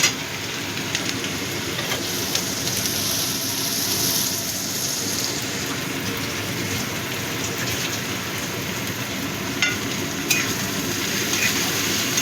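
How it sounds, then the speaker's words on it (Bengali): Chopped onion frying in hot oil in a pan while aloo paratha is being made, a steady close sizzle and crackle that runs evenly throughout with no talking. "এবার পেঁয়াজটাকে একটু ভেজে নেব"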